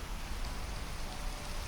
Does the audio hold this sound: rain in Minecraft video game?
yes